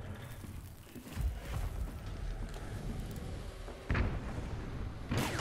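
Dynamite goes off in the Hunt: Showdown video game. Several heavy booms burst out one after another over a continuous rumbling game soundscape.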